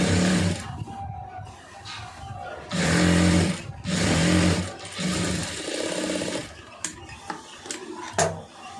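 A sewing machine stitches down the folded neckline of a garment, running in loud, close bursts of rapid mechanical whirring separated by short pauses.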